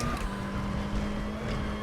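Turbocharged front-wheel-drive WTCC 2014 touring car in the R3E racing game at Macau, a steady engine drone pulling uphill, close and even across a short stretch.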